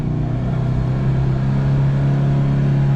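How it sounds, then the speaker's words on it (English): An old Toyota Prado straining uphill in low range through deep, chewed-up ruts, its engine revving hard at a steady, loud drone without letting up. "It is revving its box off."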